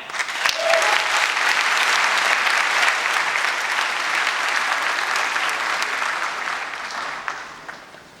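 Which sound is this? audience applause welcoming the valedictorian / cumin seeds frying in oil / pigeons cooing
audience applause welcoming the valedictorian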